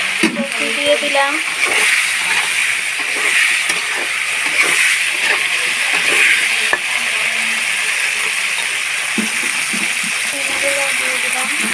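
Cauliflower florets and potatoes fry in oil in a pan with cumin, making a steady hissing sizzle that runs throughout, broken by scattered clinks and stirring noises, with faint voice-like sounds in the background.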